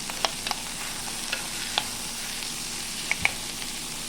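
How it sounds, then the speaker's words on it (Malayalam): Chopped snake gourd sautéing in a pan for a thiyal, a steady quiet sizzle broken by a few sharp ticks from the spatula, with no talking. "അപ്പോൾ പടവലങ്ങയൊക്കെ ഇട്ട് കൊടുത്തിട്ടുണ്ട്. ഇതിന് നന്നായിട്ട് ഒന്ന് വഴറ്റിയെടുക്കാം."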